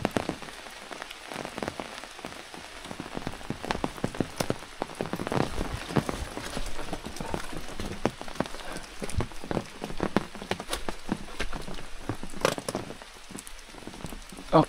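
Rain falls steadily and pelts a nearby surface with dense, crackling patter, constant and close throughout, with no voices.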